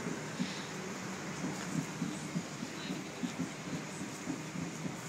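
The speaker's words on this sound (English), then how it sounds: "We have a train arriving on platform number 1 for Bondi Junction" A Tangara electric train pulls in at a suburban Sydney station platform, a faint rhythmic rumble of wheels and clicking carriages over a steady background hum.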